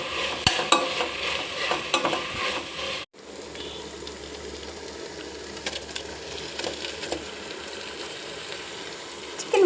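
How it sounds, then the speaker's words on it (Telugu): Chicken biryani masala with coriander and mint being stirred and fried in a pan, a steady close sizzle with scraping spoon strokes throughout, briefly cut by a short gap before the frying continues. "మొత్తం అంతా కలిగి తిప్పుదామండి."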